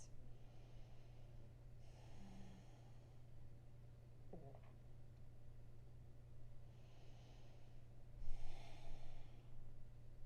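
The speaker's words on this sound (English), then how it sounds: "Breathing into the back body" Slow, deep breaths drawn in and released during a neck-stretch exercise while lying on therapy balls, soft and close. Two or three breath cycles rise and fall over a steady low background hum.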